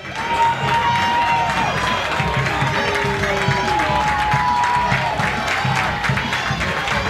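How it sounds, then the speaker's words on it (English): Home crowd cheering at Bison Stadium during a Bethany vs. W&J college football game, a steady, loud roar of many voices throughout with a commentator's voice running over it. "Home crowd here at Bison Stadium"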